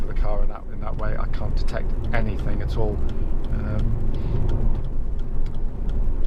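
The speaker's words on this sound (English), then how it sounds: "as I'm driving the car now as well" Honda Civic 1.8 i-VTEC Si-T five-door on the road, its steady low engine and road rumble running continuously beneath someone talking throughout.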